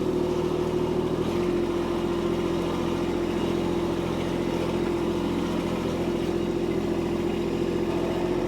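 A compact tractor engine idles at low throttle with a steady, even drone and a constant low hum, close and unbroken throughout.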